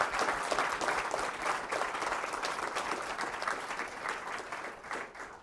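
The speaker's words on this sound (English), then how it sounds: "Can we give another round of applause?" An audience at a memorial lecture gives a round of applause, dense and continuous clapping that fades slightly toward the end, heard alone without talk.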